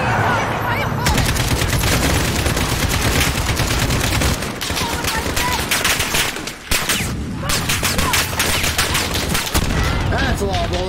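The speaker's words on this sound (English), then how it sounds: "That's a lot of bullets and grenades and shit." Gunfire and grenade blasts in the video game Call of Duty Modern Warfare, a dense, loud, continuous barrage of rapid shots and explosions that barely lets up across the whole stretch.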